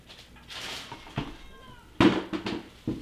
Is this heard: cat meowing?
yes